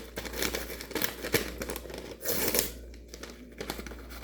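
A paper packet of Lipton onion soup mix crinkles and tears open close by, a burst of dry rustling and ripping sounds with no talking.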